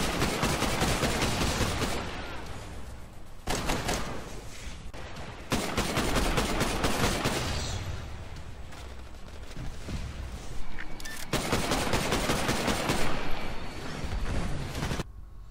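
G2 rifle fire in the game Titanfall, a single-shot rifle fired in rapid, dense strings of loud sharp reports separated by brief pauses, close and continuous with no talking.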